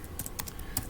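Computer keyboard keys are pressed in a quick cluster of light clicks, a Control-plus-equals shortcut typed while working in MS Word, close and crisp with no talk.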